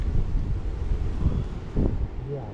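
Strong wind buffets the microphone beside the Kali Gandaki river during snowtrout fishing in Nepal, a steady low roar of gusts throughout with brief louder surges, and no one speaking.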